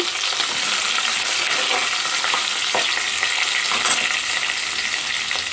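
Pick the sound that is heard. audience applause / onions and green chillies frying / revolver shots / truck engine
onions and green chillies frying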